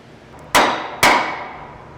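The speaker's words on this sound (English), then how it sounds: "I used a hammer and a 2x4 to persuade it into place" Two sharp, loud metallic-edged hammer blows half a second apart on a 2x4 block, driving a truck shock into place, each ringing out and decaying slowly, close by.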